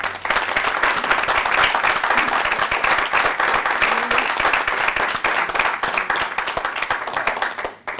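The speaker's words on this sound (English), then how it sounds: "I would welcome you giving Fiona another round of applause." Audience applause at a launch event, dense and sustained clapping from a crowd that carries on evenly and then cuts off right at the end.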